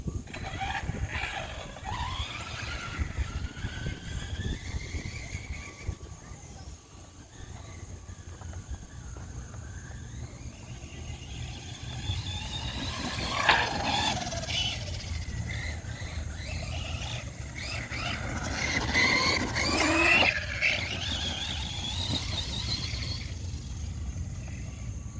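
An Arrma brushless motor in a Traxxas Rustler RC car, geared with a 13-tooth 32-pitch pinion and 54-tooth spur, whines as it accelerates and slows, with rising and falling electric pitch sweeps and tire rumble over several passes outdoors.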